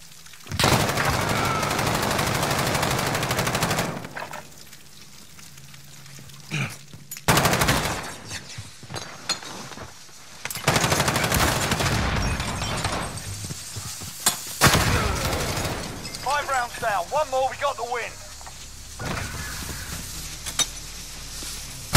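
Gunfire in a trickshot-focused video game: several dense bursts of rapid shots, loud and close, broken by short gaps, with a clinking, glassy rattle partway through.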